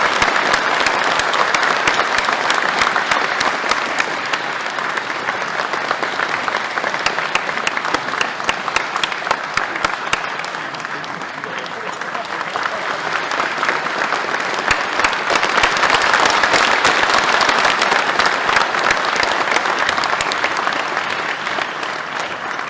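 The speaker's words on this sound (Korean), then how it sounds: "큰 박수로 축하해 주시기 바랍니다" Sustained applause at a formal ceremony for Hong Joon-pyo, a large audience clapping loudly and continuously for over twenty seconds, with a slight dip midway before rising again.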